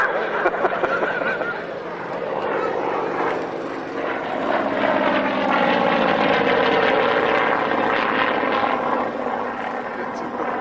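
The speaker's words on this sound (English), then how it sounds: "Looks like the last run for Angie in the Yak 11." A Yak 11 piston-engined aircraft making a run at an airshow, a loud propeller engine drone swelling and then slowly easing off, with talk from a commentator over it.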